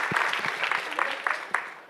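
Applause rings out at a startup pitch-to-investors event in Miami, dense clapping that holds steady for about two seconds with a few sharper claps standing out near the end.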